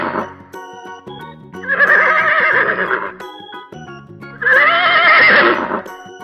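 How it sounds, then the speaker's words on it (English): Two loud, drawn-out horse whinnies ring out close by, a few seconds apart, over a soft tonal music bed. "Horses are big animal."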